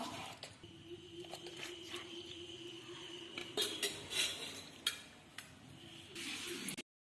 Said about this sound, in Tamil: இப்போ நல்லா வந்து ரவையையும் சர்க்கரையும் ஓரளவுக்கு நல்லா மிக்ஸ் பண்ணி எடுத்துப்போம்